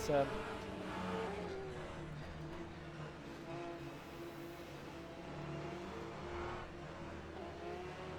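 Porsche race car engine roaring in the Le Mans Ultimate racing game, a loud sustained engine drone with shifting pitch as it accelerates, close and continuous, with no talk.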